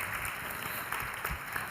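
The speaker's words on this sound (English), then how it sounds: "And another big applause for them." Audience applause during a morning plenary session at the European Mentoring Summit, a faint, distant, continuous patter of clapping from a large room without clear speech.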